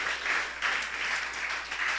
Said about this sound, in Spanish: ríndele una fuerte ofrenda de aplausos